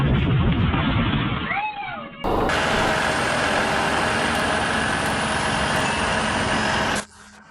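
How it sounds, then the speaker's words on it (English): A snowplow drives across a snow-covered rooftop, its heavy truck engine droning loud and steady before it cuts off abruptly near the end, with a brief rumble and wind-like noise at the start. "A snowplow casually driving across a rooftop might look effective"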